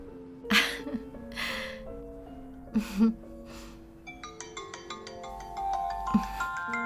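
A melodic electronic phone ringtone plays in repeating tonal bursts, with a few short gasping or breathy sounds and background music underneath.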